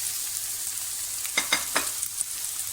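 Chopped spinach drops onto eggs frying in a pan. A soft, steady sizzle runs throughout, with a few brief scraping and stirring clicks near the end and no talking.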